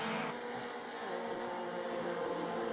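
A Mini Cooper race car at the Scottish Mini Cooper Cup drives around the track, a steady, loud engine drone with a faint shift in pitch, and no pauses.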